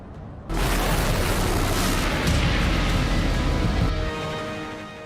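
A Katyusha rocket strike on Al Qayyarah airbase: a sudden loud boom bursts in and rolls into a sustained, rumbling roar that slowly fades, heard alone without speech.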